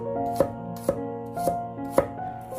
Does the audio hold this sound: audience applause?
no